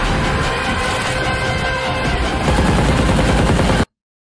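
Sustained heavy gunfire from a Salaar movie trailer, dense rapid bursts like machine-gun fire rolling continuously and loudly, ending abruptly in silence.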